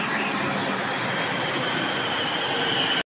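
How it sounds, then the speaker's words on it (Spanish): Loud rushing rumble of a metro train arriving, steady and close, with a faint high squeal before it cuts off abruptly. "en donde se encuentran grabaciones de llegadas de trenes"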